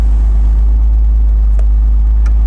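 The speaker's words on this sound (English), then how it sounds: "Oh, the Mercedes Pagoda SL." Close, loud engine rumble from a Mercedes-Benz 280SL Pagoda under way, a steady low drone through the short stretch with a light whir on top.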